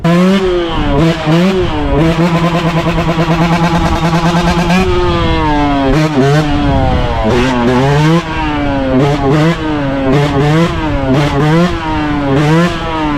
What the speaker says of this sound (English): it's just a loud bike, officer